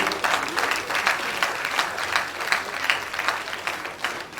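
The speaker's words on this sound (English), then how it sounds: "let's give them another big, wonderful" An audience at a dentistry faculty session applauds in a steady, sustained burst of many hands clapping, evenly loud and continuous without talk.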